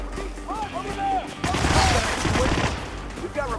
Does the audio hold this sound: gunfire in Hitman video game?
yes